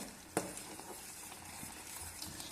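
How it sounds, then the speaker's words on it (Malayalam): Butter simmering and frothing in a pan as it turns into ghee, with a spoon stirring it: a steady close sizzle and bubbling with a sharp scrape or tap near the start and light stirring scrapes throughout. "അത് നന്നായി പതഞ്ഞ് തിളച്ച് തിളച്ച് ഒരു അഞ്ച് മിനിറ്റ് കഴിയും"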